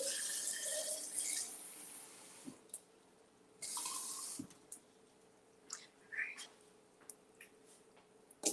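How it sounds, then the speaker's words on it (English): A kitchen tap runs into a container while bread is being made. The water first splashes in a bright stream, stops, then gushes again briefly. Faint clinks and handling noises follow, with quiet sounds in between. "So I'm just gonna get water from the tap."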